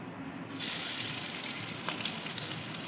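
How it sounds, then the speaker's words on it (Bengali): Onion, chili, ginger, garlic and tomato fry in hot oil in a wok, a steady loud sizzle that starts abruptly after a brief quieter moment and continues without talk. "প্রথমে কড়াইতে তেল গরম করে পেঁয়াজ লঙ্কা আদা রসুন টমেটো দিয়ে একটু নেড়ে মাছটা দিয়ে দেবো"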